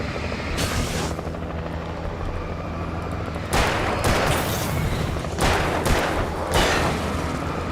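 A helicopter in the video game Alan Wake gives a continuous loud rotor drone, broken by bursts of heavy gunfire and booms in the second half, with no voices.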